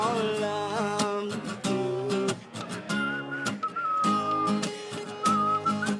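A whistled tune carries over a rhythmic musical backing, with sustained melodic whistle notes in the second half.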